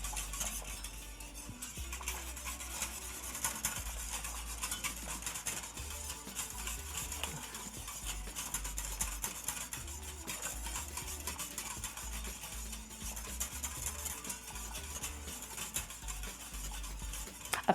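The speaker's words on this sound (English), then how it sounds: "You speed up the whisking a little bit, just to make sure you don't get any uneven cooking" Pastry cream, made with eggs and cornstarch, is whisked briskly in a pot on the stove, producing a quick, continuous scraping whisk against the metal with faint clinks and no speech.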